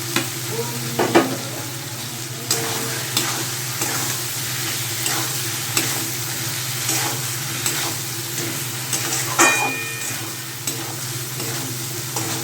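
Fish head and spices fry in a pan for a Bengali muri ghonto, with a steady sizzle and repeated scraping stirs of a spatula throughout. No one talks.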